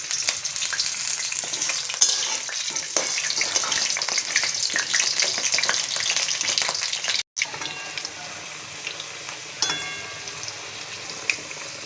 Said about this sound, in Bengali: এবার কড়াইয়ে তেল গরম হয়ে গেছে, আমি আলুগুলো ভেজে নেবো।